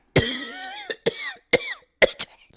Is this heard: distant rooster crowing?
no